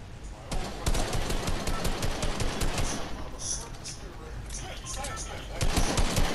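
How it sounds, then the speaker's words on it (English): Rapid gunfire in the Fortnite video game, bursts of fast repeated shots crackling throughout, with brief pauses and a renewed burst at the end, mixed with faint game sounds and some talk. "Stop shooting at me."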